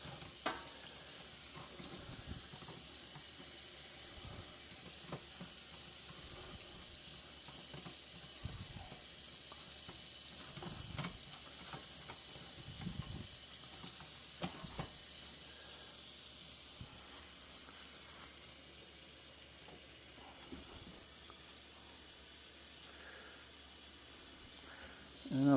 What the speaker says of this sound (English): let's go ahead and we'll rinse it under the sink here